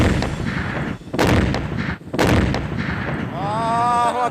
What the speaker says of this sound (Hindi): एक धमाका होता है और ये इमारत जमीन दोज हो जाती है।